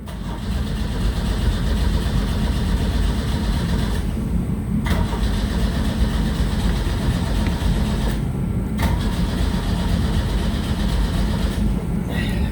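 A 1984 Pontiac Fiero engine runs roughly with a bad exhaust, a loud, close, continuous rumbling idle with uneven chugging and brief dips, lasting over twelve seconds with no talk.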